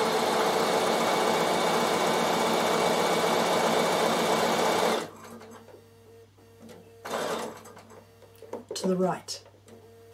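A Bernina sewing machine couches wool onto a felted door stop, running in a steady close buzzing stitch for about five seconds, then stopping, with someone talking and a few short bursts of stitching afterward.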